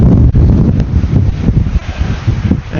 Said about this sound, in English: The wind is brutal up here today.